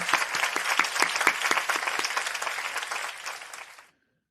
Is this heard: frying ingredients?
no